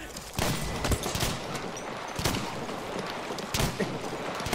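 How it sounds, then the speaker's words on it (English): Gunfire in the Battlefield 1 shooter, with a shotgun among the weapons, comes as several loud booming blasts at irregular intervals over dense battle noise. "Stop fucking shooting me with that shotgun"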